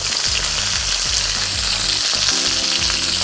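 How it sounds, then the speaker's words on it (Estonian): Beef roast searing in a hot pan, browning on both sides: loud, steady, close sputtering sizzle of fat and oil with crackling throughout and faint low rumbling underneath, no voices. "Laseme mõlemad poolt ilusti pruuniks"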